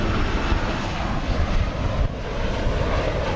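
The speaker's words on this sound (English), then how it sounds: "which is normally where that Alaska plane is just landing now" An Alaska Airlines plane landing at DFW Airport at night, heard as a steady, broadband engine roar that holds close and loud for the whole stretch without a break.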